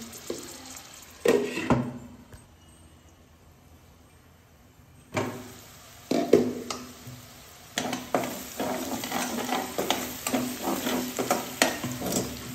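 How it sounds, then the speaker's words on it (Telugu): Onions frying in a pan: a soft sizzle punctuated by scraping stirs, with a quiet pause in the middle before brisk, repeated stirring picks up again near the end. "సో ఇప్పుడు మనం వీటిని బాగా వేపుకుందాం"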